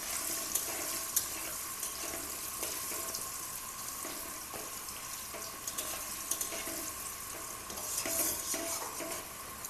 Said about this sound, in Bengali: এখন আলুটাকে লাল করে ভেজে নেব।